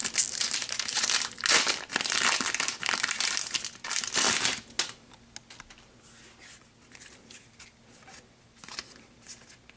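Loud, close crinkling of foil wrapping as a Weiss Schwarz Sword Art Online Ordinal Scale trading card pack is torn open, dense crackling for about five seconds, then softer sliding and shuffling of cards.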